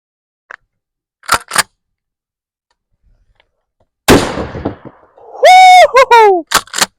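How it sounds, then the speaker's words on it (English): A Winchester 1200 20 gauge shotgun fires a slug into a stack of logs outdoors, a single sharp loud blast with a quick decay, preceded by faint clicks and followed by brief bird-like chirps. "I got a Winchester 1200 20 gauge shotgun. We're gonna go with some buckshot in this stack and a slug in this stack"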